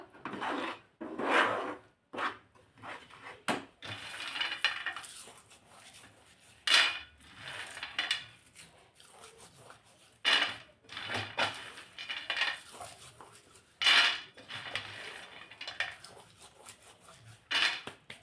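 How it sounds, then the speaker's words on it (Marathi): A spoon stirs sesame-jaggery syrup in a metal pot for til gul laddoo, giving repeated scraping and clinking strokes in an irregular rhythm, close and moderately loud, with no voices. "पाकाकडे सुद्धा लक्ष ठेवायचं आहे फिरवत राहायचं मध्ये मध्ये असं"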